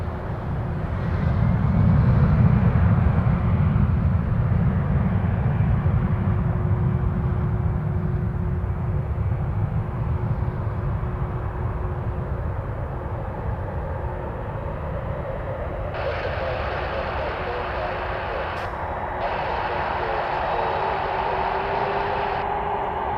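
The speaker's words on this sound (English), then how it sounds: "Lufthansa 471, 747-400 to Frankfurt" Lufthansa Boeing 747-400 airliner bound for Frankfurt at Toronto Pearson Airport, a steady, heavy jet engine rumble that holds throughout, joined later by a higher whine.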